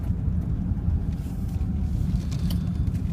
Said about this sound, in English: ooh, big truck